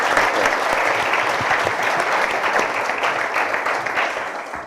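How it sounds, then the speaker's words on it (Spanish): An audience applauds warmly to welcome two guest speakers, Francisco and Andrés, at a business talk: dense, steady clapping from a full room, loud throughout and tapering slightly at the end. "les pido que les demos un aplauso afectuoso de bienvenida a Francisco y Andrés"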